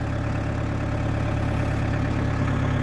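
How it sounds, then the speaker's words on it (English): A 2003 New Holland TC40D 4x4 compact diesel tractor idles up close, a loud, steady low rumble with an even, rapid pulsing throb and no speech. "Tractor's not making any weird noises or anything."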